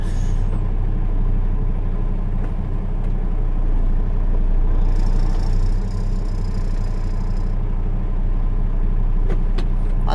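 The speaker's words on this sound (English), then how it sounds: "A lot of traffic. A lot of traffic." Evening town street traffic heard from inside a car, a steady muffled engine and road hum with passing vehicles blending into a continuous drone, no talk.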